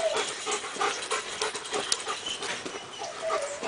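A police search dog pants rapidly and close by, its quick rhythmic breaths continuing steadily throughout without any voices.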